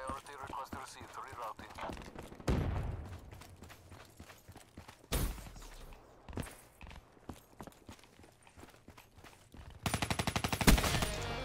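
Rapid automatic gunfire bursts and single shots in Call of Duty: Black Ops 3 multiplayer, loud and punchy with in-game footsteps and effects between bursts, and a player talking over the action.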